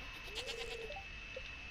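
Goats in the farming video game Stardew Valley let out a bleat followed by a couple of short higher calls, moderately close and alone against a faint steady tone.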